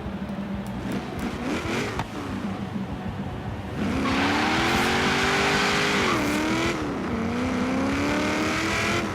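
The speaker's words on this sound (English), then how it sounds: "I love the V8 sound." A deep, rumbling V8 engine of a 1970 Chevrolet Camaro in a racing video game revs and accelerates, its pitch climbing and dipping through gear changes, loud and close with no talking.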